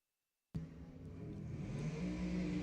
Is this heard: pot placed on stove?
no